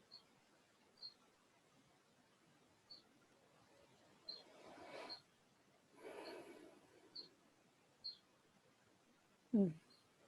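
A bird sings faintly in the distance outdoors, giving short high chirps at roughly regular intervals over near silence, with a few soft low rustles or breaths close by and one sharper nearby sound near the end.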